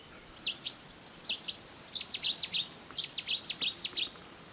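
Wild birds sing in Qaradagh: short, bright chirping phrases repeat in quick clusters at moderate distance, each burst a rapid run of high notes, over a quiet outdoor background.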